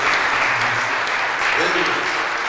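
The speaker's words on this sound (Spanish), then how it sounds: "que le demos un aplauso a Filiberto Hernández Córdoba, que es el autor de todo esto." Audience clapping at a posthumous memorial tribute: sustained, dense applause from a crowd, steady and fairly loud throughout, with a voice briefly audible beneath it.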